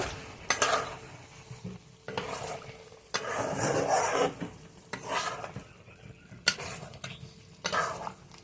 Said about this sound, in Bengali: এখন আরো কিছু সময় কষিয়ে নেব।